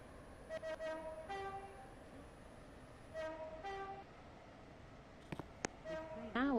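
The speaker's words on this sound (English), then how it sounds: "The train now approaching platform 3 is the Waterline service to Benton." A Roblox railway game train pulls into platform 3 at a station, sounding several short horn toots in clusters over a low rolling hum, with closer mechanical clanks and a rising whine near the end.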